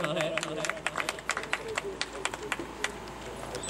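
Applause rises from the audience at a school prize ceremony: steady clapping with scattered sharper claps, along with crowd murmur and a voice speaking over it.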